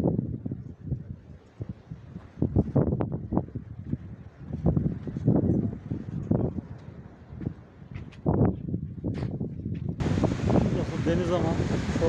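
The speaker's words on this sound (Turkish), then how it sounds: "rüzgarlı bir hava var" Gusty seaside wind buffets the microphone in irregular rumbling bursts that rise and fall. A steadier rush of wind or surf joins in near the end, with no clear talk over it.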